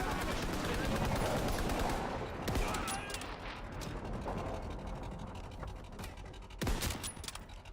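Rapid bursts of gunfire from Call of Duty: WWII beta, dense automatic rattling up front that thins into scattered shots and mechanical clicks, with someone talking over parts of it.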